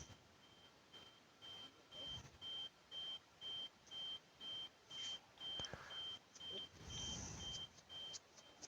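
A parked car's alarm sounds during a break-in, a regular series of evenly spaced electronic beeps at a steady pitch, heard faintly from a distance amid low background noise and a few thumps.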